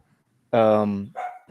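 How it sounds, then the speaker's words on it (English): A dog gives one loud, close bark that holds briefly as a drawn-out yelp, followed by a shorter, softer bark after a short gap, with quiet before it. "sorry, it's my dog"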